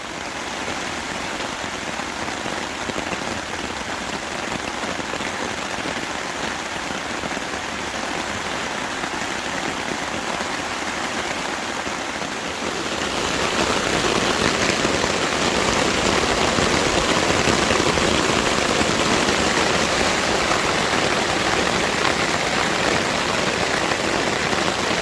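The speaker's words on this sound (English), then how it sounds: "I don't know if you can hear me over the rain," Heavy summer thunderstorm rain pounds a hammock camping tarp in a dense, continuous hiss, growing louder and harsher about halfway through, with no voices.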